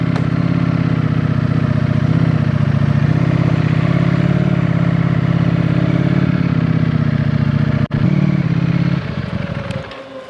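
A Ducati Desmosedici RR motorcycle engine runs loudly at close range, steady and rumbling, then shifts and begins to fade as it pulls away.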